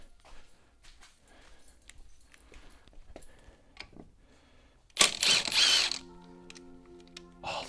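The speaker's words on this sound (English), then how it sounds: "I'll take the impact wrench this time." A pneumatic impact wrench taking a wheel off a car in a home garage fires one loud, harsh burst of hammering rattle that cuts off sharply, following quieter clinks of work.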